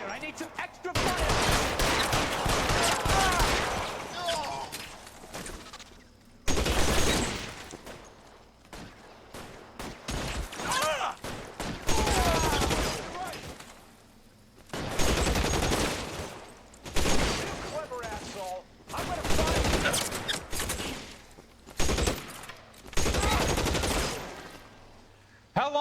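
A shootout in the video game L.A. Noire, during an arson desk case, brings repeated loud bursts of rapid gunfire separated by short pauses, with voices mixed in.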